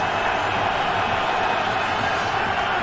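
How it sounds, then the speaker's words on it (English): Dense, unbroken roar of a CFL stadium crowd at a Toronto Argonauts at Winnipeg Blue Bombers game, building on a big down, loud and even with no voices standing out. "Crowd telling you how big this play is."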